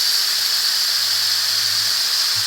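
Hot cooking oil in a pan hisses and spatters after water from a wet spatula gets into it, a steady loud sizzle with a bright high hiss and no pause, in a home kitchen.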